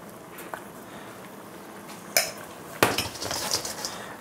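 Roasted parsnips with thyme and pesto being tossed in a bowl, with a few sharp clinks of a utensil against the dish, close and scattered over a quiet background.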